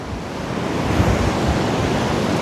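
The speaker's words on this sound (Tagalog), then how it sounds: "Ayun laking alon." Big ocean waves breaking on a beach at low tide in Ilocos Norte, a loud, continuous roar of surf with wind rushing across the microphone and no voices.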